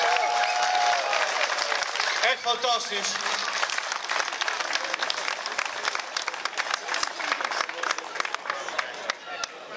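An outdoor crowd at a community event in Molenhoek applauds the volunteers and organisers with loud, sustained clapping that fills the whole stretch, while someone speaks over it near the start.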